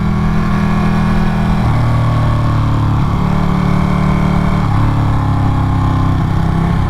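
A Ducati Panigale 959 motorcycle engine runs steadily while riding the Tail of the Dragon road, a loud close drone with brief dips and shifts in pitch as the rider changes throttle. No one speaks.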